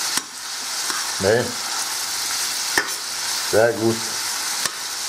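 Bacon sizzles in a frying pan with a steady, close hiss running throughout, broken by a few clicks of the pan, while someone speaks briefly over it.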